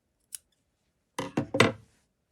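Scissors snipping material for a spider lily flower craft: one faint snip, then a pause and three quick close crisp cuts.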